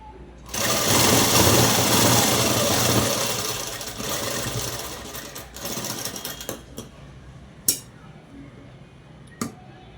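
A sewing machine topstitches a strip of cloth, running loud and fast for a couple of seconds, then slowing into shorter bursts and isolated clicks before stopping.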